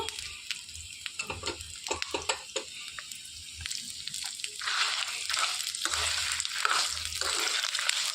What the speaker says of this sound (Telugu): చక్కగా వేయించేసుకోవాలండి మాడిపోకుండా